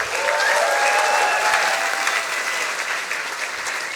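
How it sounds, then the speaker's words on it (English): An audience at a science slam applauds a speaker taking the stage, a dense, even wash of clapping sustained throughout at moderate loudness, with no voices over it. "Big applause for Tamanna."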